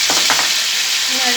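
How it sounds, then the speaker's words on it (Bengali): Onion, ginger, garlic and green chilli paste frying in a pan while being stirred, a steady close sizzle with a few scraping strokes of the spoon near the start. "আমি আগে লেড়ে দেবো।"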